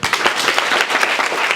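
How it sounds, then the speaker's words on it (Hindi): A classroom of schoolchildren bursts into brisk, dense applause, many hands clapping together loudly and close by for a short burst. "ताली बजाइए।"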